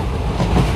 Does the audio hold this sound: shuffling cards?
no